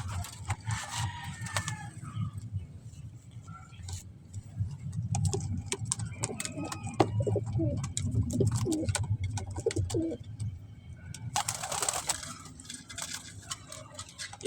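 Pigeons coo and call steadily through a loft, with several birds close by and rustling, wing flaps and a brief burst of flapping near the end.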